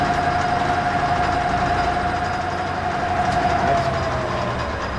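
A metal lathe cuts steadily with the compound feeding at a 30-degree angle, a continuous mechanical whir with a thin, sustained high cutting whine running through it, close and even, with no talk.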